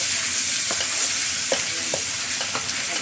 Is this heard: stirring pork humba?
yes